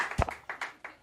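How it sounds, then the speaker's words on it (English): A roast battle audience gives a few scattered claps, a handful of sharp separate hand slaps, one close and loud and the rest softer, with no talk. "Clap your hands"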